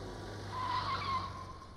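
A car brakes to a stop with a short tire squeal and skid rising midway over a low engine rumble, fairly close and alone without talk.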